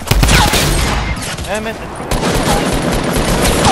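Rapid automatic gunfire in a shooter video game, loud dense bursts firing almost continuously with a brief lull in the middle, while a player mutters over it.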